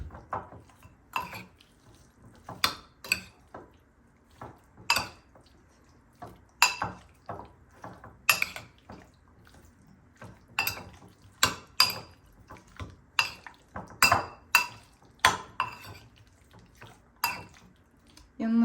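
Stirring food in a pot in a home kitchen: a spoon scrapes and clinks against the metal in irregular bursts, some loud and sharp, others soft, repeating over about twenty seconds with quiet gaps between.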